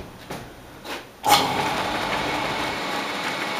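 A bandsaw wheel is spun up on a workbench, starting with an abrupt whoosh just over a second in and then holding a steady, even whirring rumble to the end, after a few faint knocks.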